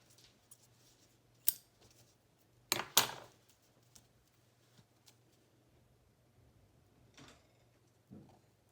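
Scissors trim paper in a quiet craft setting, several separate sharp snips scattered through, one louder double cut near the middle, close and alone with faint room hum.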